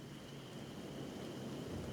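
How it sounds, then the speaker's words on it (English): Steady acid rain hiss in the game Kenshi, a dense continuous wash of falling rain with low rumbling underneath, fairly constant in level throughout. "We might get out of the acid rain right here"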